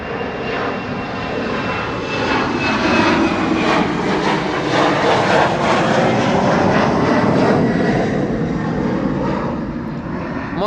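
An Air Baltic airliner in its Rasta livery roars past near Schiphol, a loud, steady broadband jet rush that swells toward the middle and slowly eases, heard alone.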